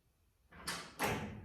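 A Chevrolet C10 truck door swings shut and catches on its striker, two firm latching thuds about a third of a second apart, close and fairly loud, with no talking.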